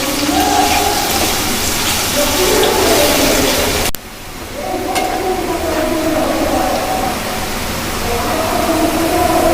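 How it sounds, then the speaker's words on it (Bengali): Potatoes with turmeric frying in a pan for a liver curry: a loud, steady hiss of sizzling oil that dips briefly and then carries on. "এটা আলুগুলো সুন্দরভাবে লাল লাল করে ভেজে নেব"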